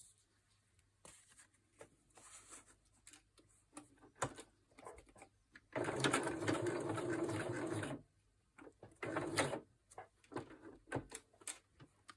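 A sewing machine stitches around a piece of paper ephemera in one short close burst, with scattered quiet clicks and handling sounds before and after.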